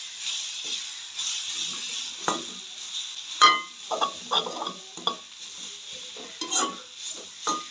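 Egg being stirred into a Jaffna fish curry in a pot, with soft scraping and clinking of a spoon against the pot, irregular and close, over a faint background hiss.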